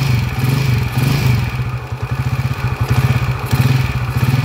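Rough-running engine on an overhaul bench, test-run with a gritty, sandy knock from a worn crankshaft bearing; steady close rhythmic chugging clatter throughout, with no voices.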